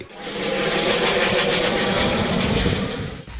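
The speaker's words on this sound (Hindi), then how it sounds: "रणवीर ने दीपिका को बहुत प्रोटेक्टिवली हेलीकॉप्टर तक पहुंचाया। दोनों फिर वहां से साथ उड़ चले" A helicopter takes off and flies away, a loud continuous rotor and engine roar that swells and holds steady before easing slightly at the end.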